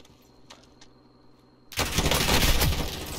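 Loud burst of automatic gunfire in Call of Duty: Modern Warfare Warzone erupts after a quiet stretch with faint ticking, then sustains as dense rapid fire for over a second.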